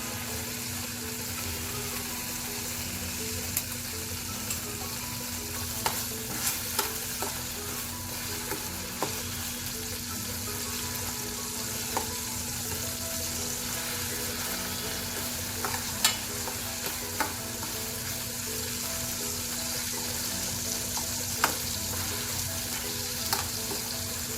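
Continuous close sizzling and crackling of spices tempering in hot oil for a spicy gravy, with occasional soft clicks of a spoon stirring.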